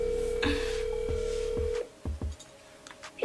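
A phone call rings out over the line: a steady tone repeats, followed by a few short beeps and clicks, near and clear with no talking.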